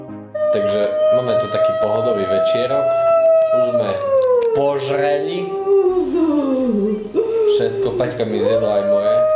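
A dog howls loudly and continuously at close range, its long, wavering, siren-like tone sliding up and down in pitch for several seconds with brief breaks between drawn-out notes.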